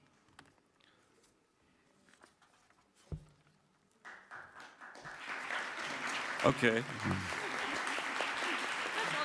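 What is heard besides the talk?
audience clapping after lecture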